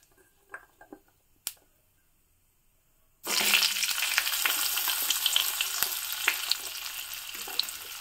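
Green beans and potatoes are tipped into a pan of hot oil with black cumin; after a few faint clicks, a loud sizzle bursts in and carries on steadily, with no talk.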